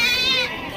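A single goat bleats close by at a crowded goat market, one short wavering cry under less than a second of background chatter.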